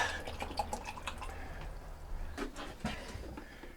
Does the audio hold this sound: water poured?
yes